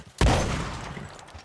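A single loud gunshot in the video game Red Dead Redemption 2, a sudden close blast followed by a long fading echo.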